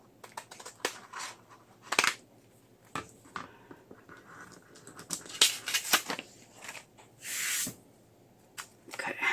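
Scissors snip and trim around a piece of plastic in short, irregular crisp cuts and rustles, close up and fairly quiet, with no talking.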